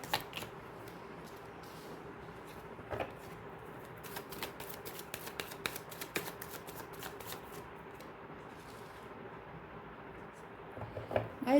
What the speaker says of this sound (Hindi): गाइस मैं कार्ड को शफल कर रही हूँ ना